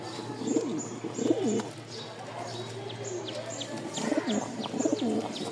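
A male pigeon of a flying breed coos in repeated bursts close by, joined by faint chirps from other birds and a low steady hum, with no talk.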